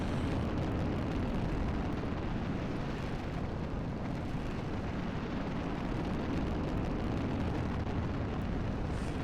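Rocket engine firing in Kerbal Space Program: a dense, continuous roaring rumble at steady loudness throughout, with no pauses or talking.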